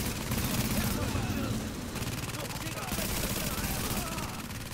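Dense, continuous gunfire rattles through a firefight in the video game The Division, bursts overlapping steadily across the whole stretch with no pauses.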